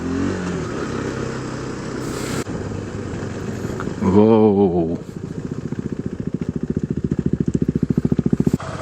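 Motorcycle engine while riding, a close steady drone that rises in a revving burst, then settles into a rhythmic pulsing throb; a voice exclaims briefly partway through.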